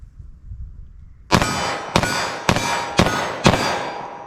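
Five 9mm +P+ Grizzly Kodiak JHP pistol rounds ring off a steel target, each a sharp metallic clang with a short ring, spaced about half a second apart after a quiet start.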